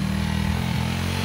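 A vehicle engine strains to climb a hill in the wrong gear at a country restaurant compound in Real, Quezon Province, giving a steady, loud, low droning hum with no talk over it.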